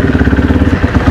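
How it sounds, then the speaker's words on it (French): A 2015 Kawasaki KX250F four-stroke motocross bike fires up after a kick start and settles into a loud, close, steady idle with a rhythmic low throb and a mechanical clatter. "La moto démarre nickel."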